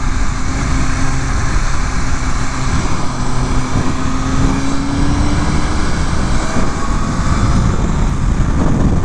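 A 2023 BMW M1000RR motorcycle engine roars loud and steady up close, held against its 9,000 RPM rev limiter with a constant droning whine and no pauses.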